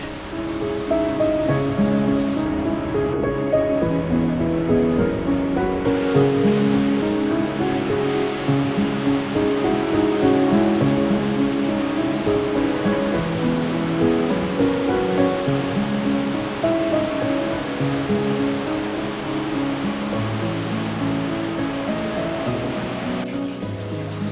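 An underground stream rushes through the water rift of Swildon's Hole cave in the Mendip Hills, a loud continuous roar of flowing water that stays steady throughout with no voices.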